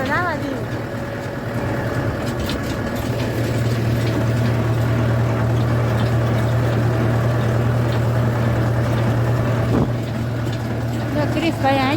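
A tractor engine drones steadily and loudly while driving, pulling a cart, with a constant low hum throughout and voices talking over it.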